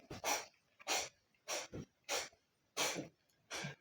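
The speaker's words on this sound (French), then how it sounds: "il y a mon chat qui tousse" A pet cat coughs in six faint, rhythmic hacking bursts, each separated by a short pause.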